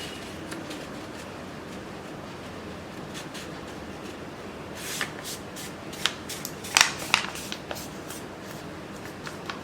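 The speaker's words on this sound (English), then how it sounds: "take the square sheet of paper, fold it to form a triangle" A square sheet of paper is creased into a triangle with soft crinkles and sharp crisp rustles, growing busier midway, close and quiet with no talk.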